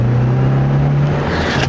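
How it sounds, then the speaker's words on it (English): Engine of a Mitsubishi Lancer Ralliart fitted with an MRT XC 55kW power kit, a loud steady droning hum heard from inside the car while driving, with the pitch rising slightly toward the end. "you notice the engine's revving a lot harder"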